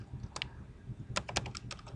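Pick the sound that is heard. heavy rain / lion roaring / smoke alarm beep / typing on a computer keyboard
typing on a computer keyboard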